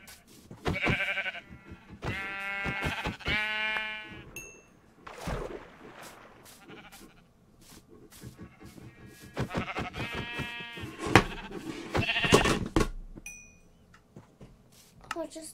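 Repeated Minecraft sheep bleats come in bursts, a cluster early on and another near the end, loud and close, mixed with other in-game clicks and effects.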